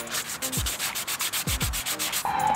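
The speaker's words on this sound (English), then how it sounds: "and then start sanding." Wet sanding of a car interior panel with 800 grit sandpaper, a close, rhythmic scratchy rubbing with repeated back-and-forth strokes, loud and steady with no talk.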